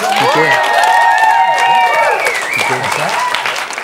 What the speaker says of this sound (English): Give a round of applause for Ross Wilson.